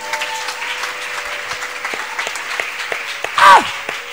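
A church congregation claps steadily, a broad wash of applause throughout with a brief voice or shout rising near the end.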